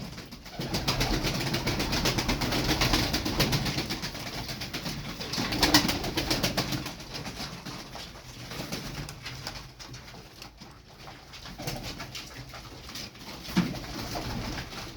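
Tumbler pigeons coo steadily while pecking at scattered feed, a close, continuous murmur of soft cooing with faint rustling throughout.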